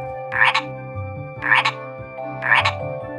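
A small frog croaks three times in a Filipino children's folk tale, the evenly spaced, raspy calls standing out clearly over soft background music.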